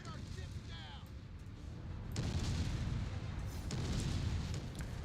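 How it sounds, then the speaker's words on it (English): Booming explosions from a Call of Duty-style war video game rumble loud and continuous, with heavy blasts swelling partway through and a sustained roaring wash of battle noise. "That's like really loud, especially with the explosions."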